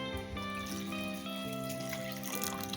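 Water is poured steadily into a measuring cup in a home kitchen, a continuous trickle and splash that runs under a loud music background, with no talking.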